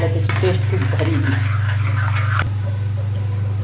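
Garlic tipped into hot, simmering dal and stirred in the pot, a steady sizzle with scraping stirs over a constant low stove hum, close and fairly loud.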